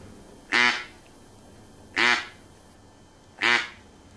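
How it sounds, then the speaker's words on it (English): A double-reed duck call blows three separate short, nasal quacks, evenly spaced about a second and a half apart, loud and close against a quiet background. "It's your simple quack."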